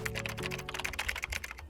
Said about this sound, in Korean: 이 분주한 소리의 정체, 노트북 작업 소리입니다.